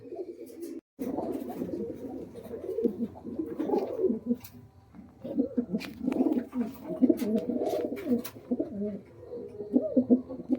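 Pet pigeons, a pair of Rampuri and Giribaz birds, cooing in repeated low throaty phrases close by, with soft rustles and faint clicks between calls.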